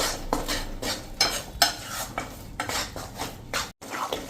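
A spoon scrapes and stirs gram flour roasting in a pan for sukhadi, making repeated rhythmic metallic scrapes and clinks up close, with no voices.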